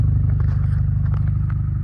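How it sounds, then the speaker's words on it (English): Alfa Romeo Giulia Quadrifoglio exhaust with a steady, deep low rumble and a regular pulsing beat throughout, close and loud, with faint clicks and rattles on top and no talking. "I love the sound of the exhaust too."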